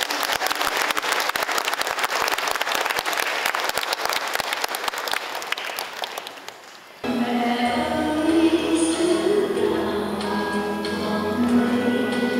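A large congregation at an outdoor Fatima Rosary procession Mass applauds, a loud, dense round of claps for about six seconds that fades away. Music with singing then follows.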